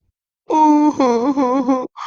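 A cartoon child cries out in a loud, wavering wail that quivers for over a second, then breaks off into a short sob.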